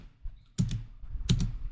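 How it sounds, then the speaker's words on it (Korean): Two crisp computer keyboard key presses, spaced about three-quarters of a second apart, close and clear against a quiet background. "키보드 누르는 게 오타 나는 것처럼 눌렸는데 오타가 안 났네요"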